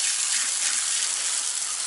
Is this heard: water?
yes